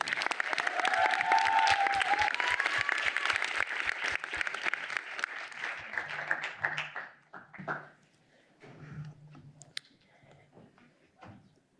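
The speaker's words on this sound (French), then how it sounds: "veuillez applaudir Ambre Langlois" Audience applause for a speaker at the Prix Lilith 2024 event, a dense burst of clapping that holds strong for about six seconds, with a faint voice partway through, then thins into scattered claps and quiet rustling.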